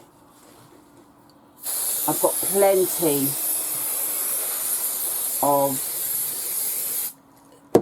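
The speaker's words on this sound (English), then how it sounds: "505 spray adhesive." A long, loud steady hiss from an aerosol can of 505 spray adhesive sprays for about five seconds onto a t-shirt while a person talks briefly over it.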